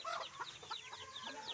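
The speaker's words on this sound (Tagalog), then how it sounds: "At ito naman yung Chinese chicken." Chinese chickens, a rooster, hen and chicks, clucking and chirping softly nearby, a busy overlapping murmur of fowl sounds with no talking.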